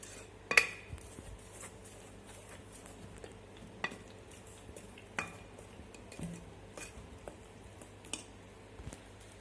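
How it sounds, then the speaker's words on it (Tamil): Tea cake batter of flour being mixed in a bowl, soft scraping and stirring with occasional light clinks of a utensil against the bowl, quiet and steady with no talking. "இதை நல்லா மிக்ஸ் பண்ணிக்கோங்க. நல்லா ஈவனாக மிக்ஸ் பண்ணிக்கோங்க."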